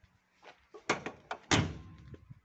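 A few solid thunks and a heavy slam close by as a ZAZ-968M Zaporozhets car door is shut, with faint rattles between and no talking.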